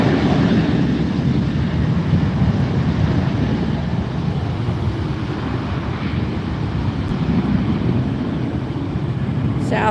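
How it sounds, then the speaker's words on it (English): A Southwest Airlines airliner rolls out at LAX, giving a steady, continuous broadband rumble with heavy low-end roar and wind noise that holds at an even level throughout, with no voices. "There goes the Southwest Airlines rolling out."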